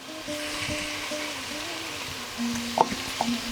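Curry with coriander powder sizzles and bubbles in a pan, a steady soft frying hiss with a low hum underneath and a few small clinks near the end.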